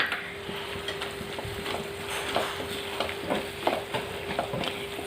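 Tomato dropped into a pan of frying onions and curry leaves for a biryani-style chicken curry, giving a steady close sizzle with scraping stirs and soft clinks of the spoon against the pan, no voices.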